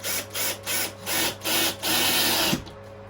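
A battery drill drives screws into timber framing for a baseboard: four or five short whirring bursts with brief pauses, then a longer run that ends in a final clunk, close and fairly loud, no talking.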